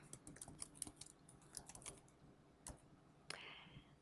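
Clicks from a computer keyboard being typed on, a quick run of light keystrokes followed by a few isolated taps, quiet and close with no talking.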